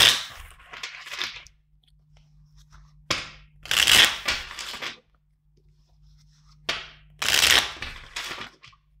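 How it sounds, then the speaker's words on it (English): Tarot cards being shuffled by hand in three separate bursts of riffling and rustling, each a couple of seconds long with quiet pauses between, close and crisp, with no talk. "But first, let's shuffle three times."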